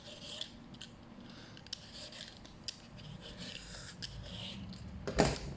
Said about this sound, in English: the skin can be very, very thick, but you can just persevere with that peeler